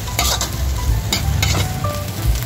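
Garlic and onion frying for pancit bihon guisado, loud close sizzling with quick spatula strokes tossing the pan, continuous and without speech.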